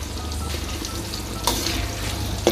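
Salted banana slices fry in hot oil, a loud, continuous crackling sizzle with two sharper scraping knocks from stirring partway through and near the end.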